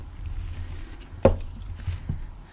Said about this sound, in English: Let's take the cork out.